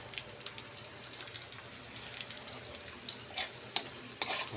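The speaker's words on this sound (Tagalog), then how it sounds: "Pula-pula na yung bawang. Sunod na nato ang sibuyas." Onion sautéing in a pan with garlic already browned, a continuous sizzle up close broken by several crisp spatula scrapes and clicks toward the end.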